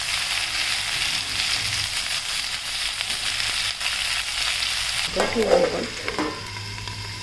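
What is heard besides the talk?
capsicum being sautéed in oil with garlic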